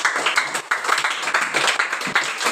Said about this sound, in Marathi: त्यासाठी जरा जोरात टाळ्या वाजवा ह्याच्यासाठी